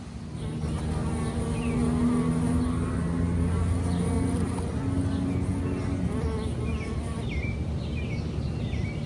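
A honey bee swarm hums steadily at a swarm trap, a dense, continuous buzzing close by with faint bird calls behind it.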